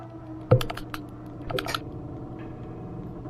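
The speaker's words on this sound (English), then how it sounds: "All the clicking and the clacking." Rapid plastic clicking and clacking of game controller buttons while playing Rule of Rose, a close series of short taps with a few louder knocks over a low background hum.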